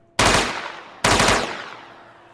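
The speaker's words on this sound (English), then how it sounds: "You know what an MP5 sounds like." An MP5 submachine gun fired in the video game Dead Matter: two sharp, loud reports about a second apart, each ringing out with a decaying tail.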